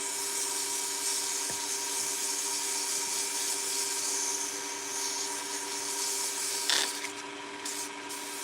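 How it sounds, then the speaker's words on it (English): Dense ebony wood is sanded by hand with steady, continuous rubbing strokes, close and clear, a soft abrasive scratch throughout with a brief knock partway through. "So right now we're sanding the ebony."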